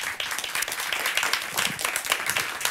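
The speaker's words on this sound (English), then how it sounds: "give uh, Mattias an uh, applause" A summit audience applauds a speaker steadily, dense overlapping claps filling the room at a fairly loud, even level throughout.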